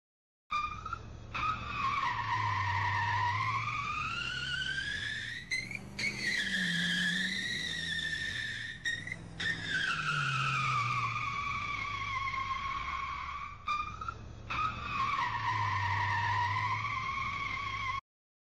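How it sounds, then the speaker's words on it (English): Simulated car drifting in Unreal Engine 5 with tire skid squeals that rise and fall in pitch over several long sweeping passes, loud and continuous with brief gaps, alongside a low engine drone and no talk. "we want the sound intensity to increase the more the car turns, and decrease when steering returns to center"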